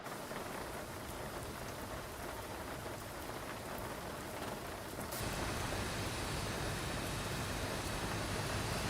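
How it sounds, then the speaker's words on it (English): Simulated rain in the X-Plane 12 flight simulator patters steadily on a Boeing 737-800 airliner, a dense hiss that grows louder and fuller about halfway through, no speech. "I'm not sure where the rain is coming from, however, because we have a few clouds."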